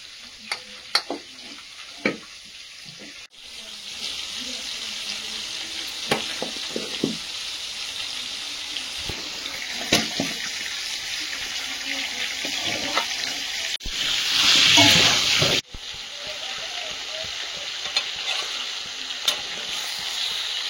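Marinated meat sizzling and frying in a pan while it is stirred, with intermittent scraping clinks and a steady hiss, plus a brief burst of running water partway through.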